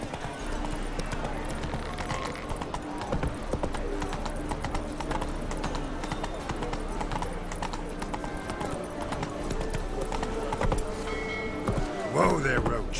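Horse hooves clip-clop steadily at a gallop through the Witcher 3 video game, the mount urged on by a rider, with a brief whinny near the end over a constant background bed of game music and ambience.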